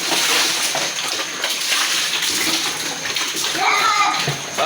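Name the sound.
water being poured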